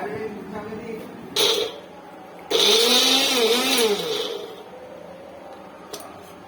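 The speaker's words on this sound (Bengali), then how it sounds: "আর এখানে রসুন থেতো করা হচ্ছে, আদা থেতো করা হচ্ছে" Garlic and ginger being crushed in a grinder for egg curry, a short whirring burst followed by a longer loud droning grind whose pitch dips and wavers before stopping, with people talking around it.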